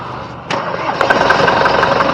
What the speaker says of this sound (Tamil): வாங்க வண்டியோட இன்ஜின் சவுண்ட் எப்படி இருக்குது அப்படிங்கிறத பார்ப்போம்